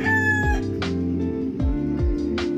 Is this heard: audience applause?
no